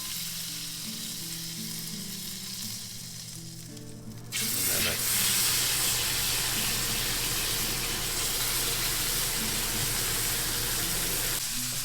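Butter sizzling in a pan heated nice and hot in a homestead kitchen, with a soft sizzle that jumps to a loud, steady, close frying hiss partway through and holds to the end.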